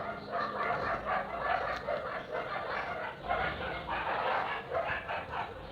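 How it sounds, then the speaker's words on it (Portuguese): Several neighbouring dogs bark continuously at a distance, overlapping yaps and woofs in an uneven, steady chorus. "Ele tem muitos cães e eles latem muito"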